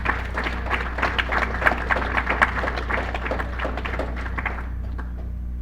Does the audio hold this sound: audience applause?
yes